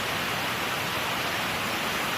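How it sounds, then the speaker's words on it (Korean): Steady broadband rush of a waterfall in a valley swollen with water after a typhoon, a continuous even roar with no breaks and no voices. "아까 그 폭포 소리"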